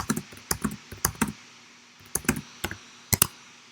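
Typing on a computer keyboard, close up: irregular clusters of sharp clicks and keypresses come in short bursts with pauses between them, and no voice is heard.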